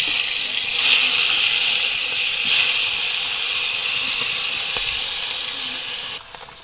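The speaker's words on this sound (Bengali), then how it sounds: "মাছগুলা দিয়ে তেলটা গরম হয়ে গেছে।" Fish frying in a pan of hot oil gives off a loud, steady sizzling hiss that holds for several seconds and eases slightly toward the end.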